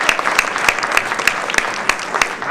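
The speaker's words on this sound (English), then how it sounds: "Applaud yourself." Audience applause at a Maryland Women's Hall of Fame event, a fairly dense round of clapping with a few sharper individual claps standing out, steady and close throughout.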